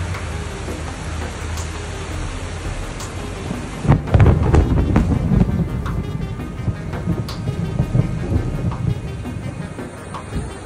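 A heavy rainstorm with street flooding: steady dense rain hiss throughout, then a loud, close thunder crack and rumble about a third of the way in that rolls on under the continuing downpour.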